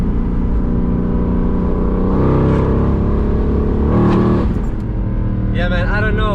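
Close, loud rumble of a Stage 3 Weistec supercharged Mercedes CLK 63 AMG Black Series engine, swelling in two revs with whine rising over the idle, followed by someone talking.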